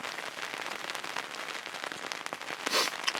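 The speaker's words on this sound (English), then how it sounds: "if you can hear that, that is rain." Rain patters on a surface at a deer-hunting camp, a dense crackling spatter of drops that stays fairly close and steady, with a brief louder burst near the end. Nobody talks.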